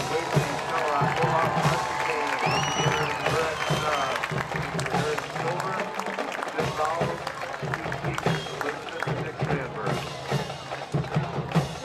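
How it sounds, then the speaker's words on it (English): A crowd at a high school halftime show applauds and cheers, a busy, fairly loud mix of clapping and voices that continues for around twelve seconds, with chatter and whistles mixed in. "how about a nice round of applause?"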